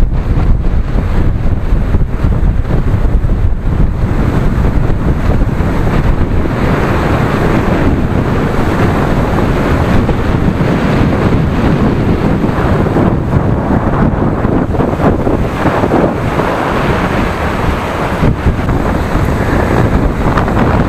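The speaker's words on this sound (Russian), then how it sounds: "Буйная погода, буйная," Stormy, gusty wind and crashing surf on a Cuban beach, a loud and unbroken roar of waves with heavy wind buffeting the microphone throughout.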